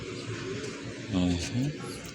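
A racing pigeon coos a couple of low, throaty notes, nearby, over steady background chatter and noise.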